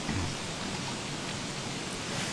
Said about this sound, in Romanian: Ploaie, te rog, termină-te.